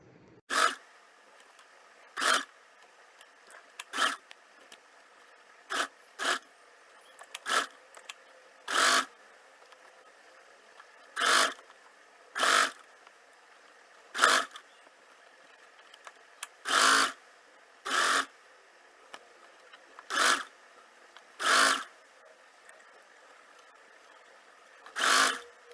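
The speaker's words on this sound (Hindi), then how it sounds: "इसको सिलाई करेंगे।" Home tailoring machine stitching a small fabric pouch bag in a series of short, separate bursts of whirring, each under a second, with brief quiet pauses between runs.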